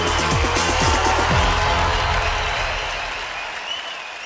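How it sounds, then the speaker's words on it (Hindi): A studio audience at the Indian Idol Season 12 singing competition gives singer Arunita loud, sustained applause that slowly tapers off toward the end. "अरुणिता के लिए जोरदार तालियां हो जाए"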